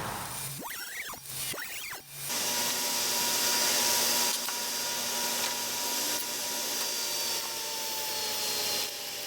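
A power saw cuts off excess wood while fixing a shelf, the motor spinning up after two short rising whirs and then holding a steady loud whine for several seconds without speech.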